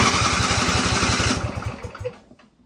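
A small engine on an off-road race mower build fires with brake cleaner sprayed in, throttle not fully open, giving rapid close pulsing bursts that run briefly and then sputter and die away.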